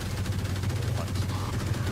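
Rapid bursts of gunfire from the video game Valorant crackle densely in a pro esports match between NRG and MIBR, with a caster's voice running underneath the shots.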